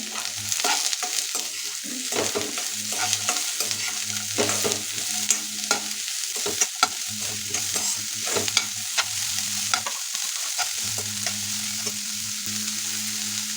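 Beans and carrots are stir-fried in a pan with a spatula, giving a steady low sizzle broken by repeated scraping strokes at an irregular rhythm, close and clear, with no talking.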